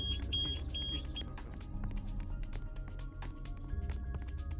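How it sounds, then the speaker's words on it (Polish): An electronic gate in a video game about escaping a beast gives a quick series of high, thin beeps, then falls silent under steady game noise and scattered clicks. "Jakaś bramka zapiszczała jak przyszedłem."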